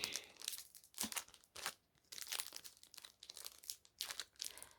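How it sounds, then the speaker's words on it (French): A Pokémon trading card booster pack being torn open by hand, with bursts of crinkling foil wrapper and tearing in an irregular rhythm, close and fairly quiet, no talking. "on va quand même l'ouvrir comme ça là en direct live"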